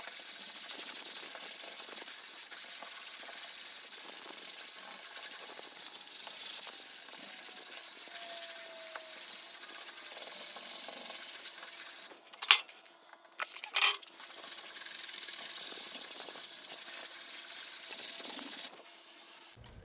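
Steady abrasive rubbing of a sanding block on a wall patch, continuous and close, pausing briefly midway before resuming.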